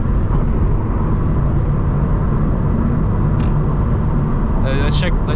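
A turbocharged Subaru BRZ cruising in sixth gear gives a steady, loud low engine and road rumble throughout, with brief higher chirps near the end.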